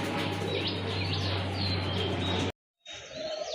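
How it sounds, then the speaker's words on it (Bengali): Several birds chirp and call continuously over a steady low hum, cut off by a brief silence, then resume; no clear cooing stands out from the chatter. "খুবই চমৎকার এক জোড়া কবুতর লাল গিয়ারের কবুতর"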